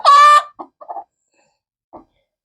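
A brooding country hen on her nest gives one loud, harsh squawk, then a few short, soft clucks spaced out close by, with quiet gaps between them.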